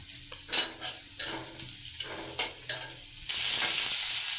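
Cauliflower and carrot fry in a pan with a steady hiss, broken by several sharp stirring scrapes and clinks of a utensil, before the sizzle swells louder and continuous near the end.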